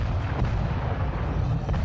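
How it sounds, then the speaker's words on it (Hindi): A fiery explosion as an American fighter jet blows up during takeoff, heard as a continuous heavy low rumble and roar, loud and sustained without a distinct single blast. "उड़ान भरते समय ही विमान में ये बड़ा विस्फोट होता है"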